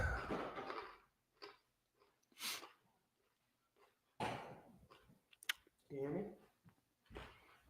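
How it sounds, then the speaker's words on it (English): A person chews crunchy food close to a microphone, with wet bites and crunches in irregular bursts between stretches of people talking. "can you guys hear him crunching?"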